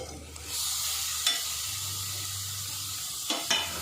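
Jackfruit seeds sizzle and hiss as they are added to a hot pan for a potato and small shrimp dish, with a few scraping stirs, steady and close, with no one talking.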